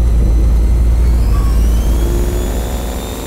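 Loud, close engine roar of an 800hp restomod 1967 Ford Mustang Fastback pulling away, a steady deep rumble with a rising whine as it drives off.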